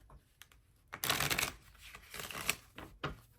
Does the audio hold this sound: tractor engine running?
no